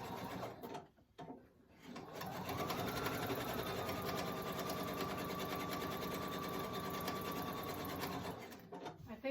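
An Opal sewing machine stitching steadily at close range, a loud continuous mechanical whir with rapid needle rhythm, preceded by a few brief handling noises.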